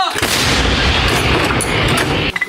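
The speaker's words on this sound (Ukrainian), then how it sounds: "При готовності вогонь. Гармата!" A howitzer firing in combat, one loud booming blast close by with a long rumbling roar that dies away after a couple of seconds.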